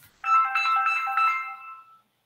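A phone ringtone sounds for an incoming call during a genetics lecture, a bright melodic electronic tune with repeated phrases, fairly loud and close, lasting about two seconds alone before stopping.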